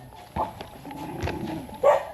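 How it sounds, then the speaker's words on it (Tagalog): Several dogs at a rural home in Biasong, Balamban, Cebu, give three short, loud barks spaced about a second apart, fairly close, with little else around them. "Inaaw-aw kami ng aso ngayon."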